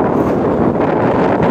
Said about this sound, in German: Und hier in der Spitze beim Leuchtturm ist schon wieder wesentlich windiger.